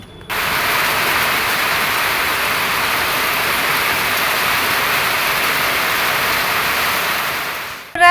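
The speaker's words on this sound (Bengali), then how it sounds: "বৃষ্টি চলে আসলো বৃষ্টি এখন শুরু হয়ে গেলো" Steady heavy rain hisses without a break, a dense, even roar that holds from start to finish before cutting off.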